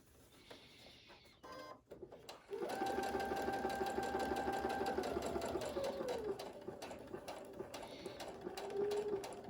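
Sewing machine stitching a cloth mask, running a fast, steady whirring burst with a whining motor tone that shifts as the stitching slows, after a brief pause with a few clicks at the start; close and loud.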